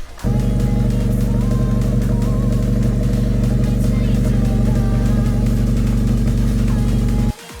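A car exhaust fitted with a custom axle-back built from reused exhaust tips drones loudly and steadily for about seven seconds, holding an even rumbling tone before cutting off abruptly.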